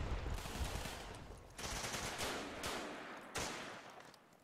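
Rapid bursts of suppressing rifle and machine-gun fire in the Running With Rifles war game, with several sharp, loud volleys landing over a dense, continuous battle din.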